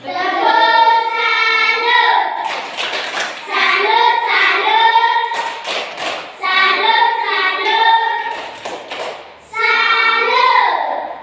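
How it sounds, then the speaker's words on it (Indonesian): An elementary class performs a "tepuk salut" clap routine. Children's voices chant in unison, broken by three short bursts of sharp group clapping close by. "Tepuk salut untuk kita semua."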